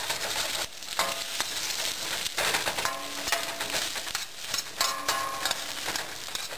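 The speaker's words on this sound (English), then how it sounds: "Let's scramble this shit all up." Eggs are scrambled in a hot pan for pad thai, a cleaver scraping and stirring over a constant loud sizzle, with repeated clanking strokes throughout.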